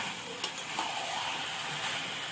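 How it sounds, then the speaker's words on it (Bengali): Meat frying in a pan with spices for a home-style biryani, a steady soft sizzle running throughout with a faint stirring knock near the start. "কষিয়ে নেব মাংসটা।"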